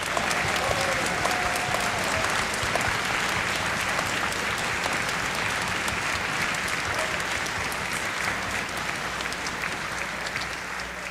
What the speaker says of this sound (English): Parents, we'd like to give you a round of applause for all of your help